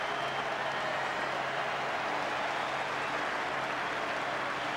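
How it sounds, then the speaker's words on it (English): A rugby stadium crowd at a 1997 Super 12 match applauds an injured player leaving the field, a broad, distant and steady wash of clapping and crowd noise with no clear talk. "he'll get a wonderful round of applause, I'm sure, as he comes from the fields"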